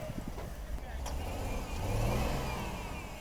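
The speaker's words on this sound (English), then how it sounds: "he's got 4-wheel drive, but one tire is spinning, the other tire is spinning" A 4-wheel-drive car stuck in snow during a Chicago blizzard revs its engine while the tires spin, a low droning whine that swells toward the end, heard without any voices.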